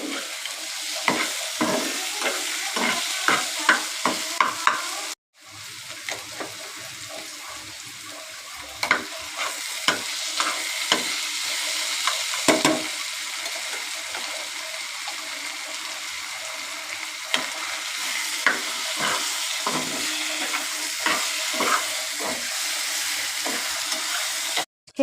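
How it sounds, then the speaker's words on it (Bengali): Potatoes fry to a reddish brown in a pan ahead of cooking bele fish, a steady sizzle broken by frequent sharp scrapes and clinks of stirring, close and fairly loud, with a brief cut near the start. "বেলে মাছটা রান্না করার আগে আলুটাকে একটু লাল লাল করে ভেজে নিচ্ছি"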